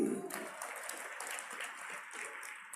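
Audience applause at a Kumar Vishwas poetry recital in Diamond Hall, a steady wash of clapping that starts abruptly and holds at an even level for a few seconds.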